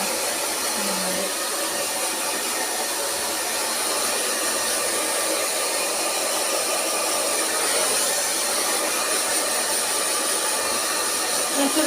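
A hair dryer blows continuously at close range, a loud, even rushing whoosh that holds steady for about twelve seconds without pause.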